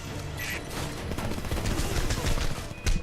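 Dense gunfire and crashing battle noise in the Homefront game, loud, continuous fusillade with short mechanical clanks and one sharp burst near the end.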